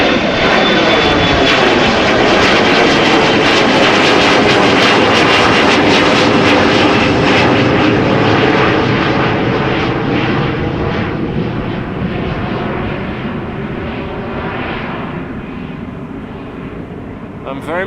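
Embraer jet roaring down the runway on a windy day at Amsterdam Schiphol, a loud, sustained engine rumble that stays strong throughout and eases off gradually toward the end.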